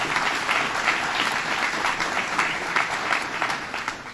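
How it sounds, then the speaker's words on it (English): An audience claps steadily for a state senator at a governor's event in upstate New York, a dense, even applause lasting a few seconds. "Let's give him a round of applause for a nice introduction."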